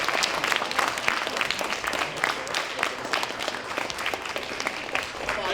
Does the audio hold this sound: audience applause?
yes